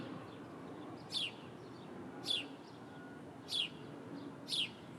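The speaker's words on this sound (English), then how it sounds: "The bird you hear chirping is the one that usually" A bird chirps near its nest, four short high chirps spaced about a second apart, clear over a low steady outdoor hum.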